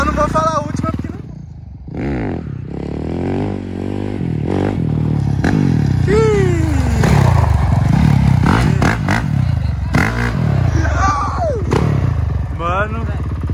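Dirt motorcycle being revved up for a wheelie on a dusty spot, with uneven throttle blips and rising engine whine alongside clattering and scraping, while people talk over it.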